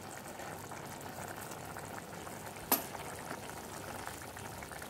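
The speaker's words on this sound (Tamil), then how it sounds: "இது நல்லா கொதிக்கட்டும்." Dried fish gravy bubbles in a pot on the stove, a soft, steady simmer heard close and quiet, broken once by a brief sharp clink midway.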